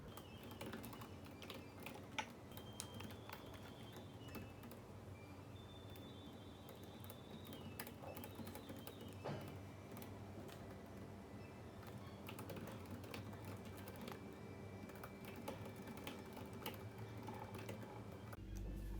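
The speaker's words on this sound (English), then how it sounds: "I'll start typing the code in the main function." Quiet, steady clicking of keys on a computer keyboard, continuous typing with irregular rhythm, close and soft, no voices.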